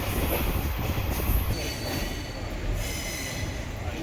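An express train from Kollam arriving at Chennai Egmore, with loud, steady wheel squeal and rumbling carriages rolling close by.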